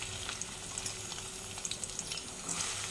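Chopped onion pieces fry in hot oil for a mutton and raw mango curry, giving a steady close sizzle with soft crackles and faint occasional stirring clicks throughout.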